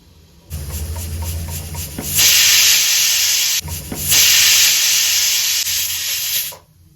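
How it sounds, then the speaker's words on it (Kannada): A pressure cooker holding mushroom biryani whistles twice, each a loud, sustained high steam shriek lasting about one and a half seconds, with a low rumbling boil running beneath and between them. No one speaks. "ಇವಾಗ ಇದನ್ನ ಲಿಡ್ ಕ್ಲೋಸ್ ಮಾಡಿಬಿಟ್ಟು 2 ವಿಸಿಲ್ ಬರ್ಸ್ಬಿಡೋಣ."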